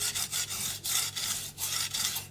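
A steel blade rubs back and forth on a new 150 grit Omurato sharpening stone, a steady rasping scrape in about seven close, even strokes with short pauses between them.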